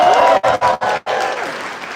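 Wedding guests cheer and clap loudly at a celebration, in a few quick bursts with brief gaps between them, then settle into sustained applause and crowd noise.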